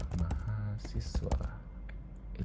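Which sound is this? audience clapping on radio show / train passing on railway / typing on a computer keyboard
typing on a computer keyboard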